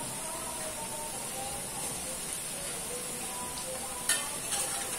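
Peyek, Indonesian crackers, frying in hot oil with a steady close sizzle and crackle throughout, plus a brief louder clatter near the end.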